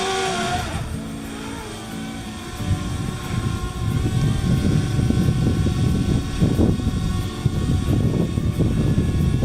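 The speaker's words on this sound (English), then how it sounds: "Sounds like a swarm of hornets, I tell you what. Well, there's Danny playing with his drone. And here comes his drone." A DJI Spark drone buzzing as it approaches and passes overhead outdoors, a thin whining rotor drone that grows louder and more steady toward the end with no talk.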